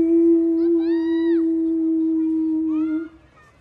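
A person imitates a wolf waking in its den with a long, steady howl that rises and falls with a wavering tone and then fades out, sounding close and clear.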